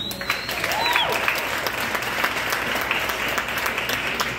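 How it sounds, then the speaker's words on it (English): Steady, sustained applause from a large crowd at a comedy ladies' night at an axe-throwing venue, dense and even throughout, with a few faint whistles rising above the clapping. "let's get a round of applause"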